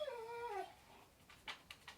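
A foster dog whimpers near a coffee shop, giving a faint high whine that slides downward, followed by a few soft short yelps.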